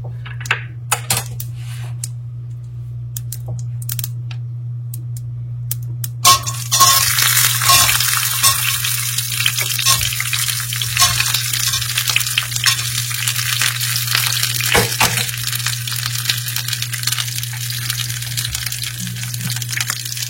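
Eggplant curry cooking in a pan, a steady sizzle that swells loudly after a quiet start, with occasional stirring scrapes and clinks over a constant low hum, no talking.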